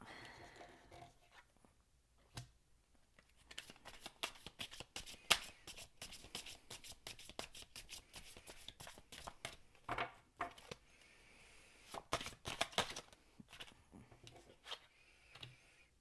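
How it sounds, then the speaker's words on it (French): Oracle cards being shuffled by hand, a soft, continuous riffling and flicking patter with irregular louder clusters, close and fairly quiet, with no speech. "Alors j'aime beaucoup mixer les oracles dans mes tirages."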